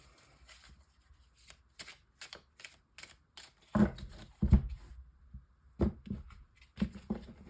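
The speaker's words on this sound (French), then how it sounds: "je vais prendre quelques cartes" Tarot cards are shuffled by hand, with soft riffling and flicking followed by louder, sharper card slaps and taps in an irregular rhythm, close and with no talking.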